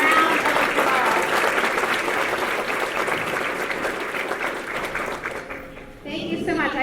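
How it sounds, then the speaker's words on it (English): Sustained audience applause at a career conference keynote, loud, dense clapping from a large crowd that thins out toward the end before a voice begins speaking. "So please, everybody, give them a round of applause."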